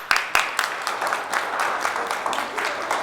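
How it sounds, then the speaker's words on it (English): Audience applause for a woman about to give a speech at a high school, a steady wash of clapping with a few sharper claps near the start, moderately loud and fairly close. "let's clap it up for Ms. White."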